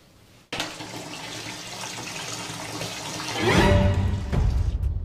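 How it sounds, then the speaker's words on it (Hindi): A bathroom water tap suddenly turns on. Water rushes out steadily and swells louder toward the end, with no talking over it. "फिर से नल चालू हो गया।"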